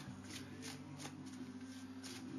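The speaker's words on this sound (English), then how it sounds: "Okay, I'm going to shuffle these up." Playing cards being riffled and shuffled, a soft papery flutter with several quick bursts, close by over a faint steady hum.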